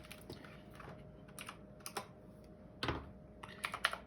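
Someone types a calculation on a computer keyboard, producing short bursts of close, quiet key clicks separated by brief pauses, with no talking.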